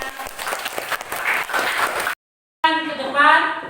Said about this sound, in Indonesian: Berikan tepuk tangan semuanya.